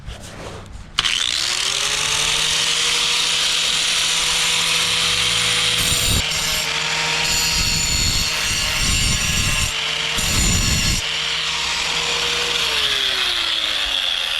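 A chainsaw with several teeth removed from its chain revs up and bites into wood, a loud sustained droning whine with rough bursts of cutting grit as the bar drags through the log, then winds down.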